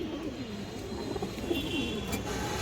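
A large hen pigeon with full markings coos in low, rolling, repeated phrases, moderately close, over steady background noise; no one speaks.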